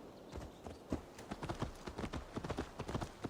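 Horse hooves clop in the video game Assassin's Creed Valhalla, a quiet, regular run of hoofbeats that quickens slightly, with no talk over it.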